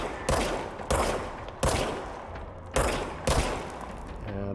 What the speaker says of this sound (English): We've got the service pistol.